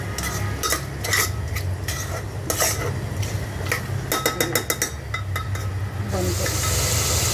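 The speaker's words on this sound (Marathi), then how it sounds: "आणि आता हे आपण मस्त हलवून घेऊ चांगलं" A utensil scrapes and clinks repeatedly against a pan as peas and other food are stirred during home cooking, close and busy, with a soft sizzle underneath and a louder hiss rising at the end.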